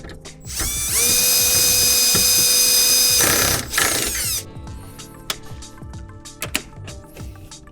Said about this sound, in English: let's screw this back to its original location